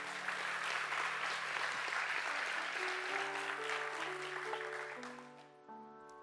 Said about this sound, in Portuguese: Dê um aplauso bem forte a Deus